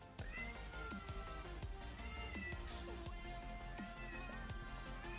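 Cats meow repeatedly in the mobile game Crash Arena Turbo Stars, with several drawn-out meows layered over steady game music and effects, loud and continuous.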